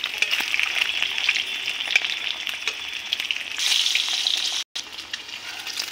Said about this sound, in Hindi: ये भून जाएगा